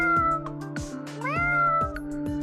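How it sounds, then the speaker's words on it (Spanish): A domestic cat meows several times in short, clear calls with a rising, wavering pitch, close and loud against a quiet background. "¡Wow! Encontraste un gato."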